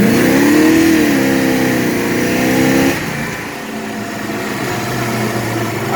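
Big-block Chevy with an Atomic MSD EFI revving on a rolling road test: a loud, close engine climbs and holds high revs for about three seconds, then drops to a steadier lower drone with no speech.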